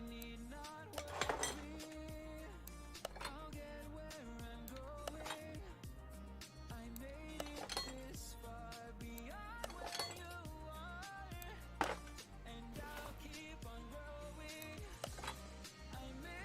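Metal pushrods clink as they are fitted one by one into a standard rocker setup on an engine, sharp light metallic ticks and taps scattered irregularly over a quiet background.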